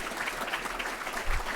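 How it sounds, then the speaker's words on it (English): A conference audience applauds at an annual investment manager gathering, a brief, steady patter of many hands clapping at moderate distance. "I want you to give them a big round of applause"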